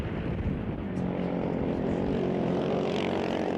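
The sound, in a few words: racing snowmobiles launching off the starting line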